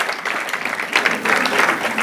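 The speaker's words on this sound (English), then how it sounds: "Cheer for all of us here." A crowd at a grand opening applauds with a dense, steady clatter of clapping that swells slightly halfway through.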